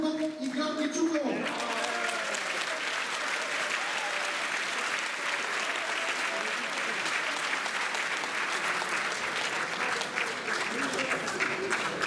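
Sustained audience applause for award nominees being called up to a stage at a Christmas event, following a brief spoken announcement at the start, then a long, full burst of clapping that stays steady to the end.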